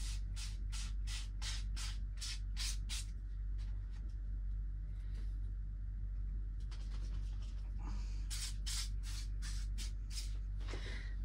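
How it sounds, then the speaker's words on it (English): Spray glue hissing from a can into a bin in a craft setting: a series of short, quiet rhythmic bursts, then a pause with faint rustling, then more quick spray puffs. "Let me just spray it a bit into my bin."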